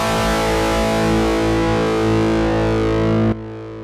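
Electric guitar played through an AMT R2 preamp with no cabinet simulation, a dense, buzzy distorted tone ringing steadily for over three seconds before cutting off sharply into a faint tail.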